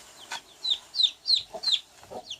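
A mother hen clucks near her chicks on a family farm, with a steady run of short, close clucks and soft peeping calls between them.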